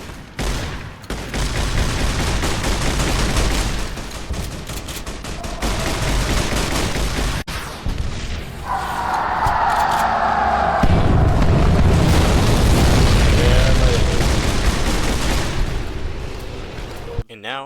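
Battle in Fallout: New Vegas with heavy gunfire and explosions, dense rapid shots and booms packed together throughout at full loudness, with a voice talking over part of the fighting.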